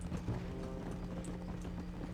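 Horse hooves clip-clop steadily at a walking pace in the Red Dead Redemption video game, close and continuous over a low ambient hum.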